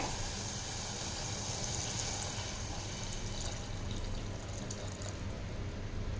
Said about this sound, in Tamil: இதே டம்ளரில் வந்து ரெண்டு டம்ளர் தண்ணி சேர்த்திக்கலாங்க